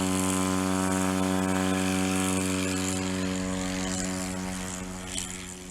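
A small airplane of roughly 1,350 pounds takes off at a STOL qualifying competition in Brainerd, Minnesota, its propeller engine roaring loud and steady throughout, easing only slightly near the end.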